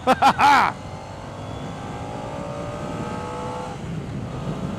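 Car engine revving up to 7,500 rpm, a loud rising whine and drone that holds high, then eases, with short bursts of talk at the start.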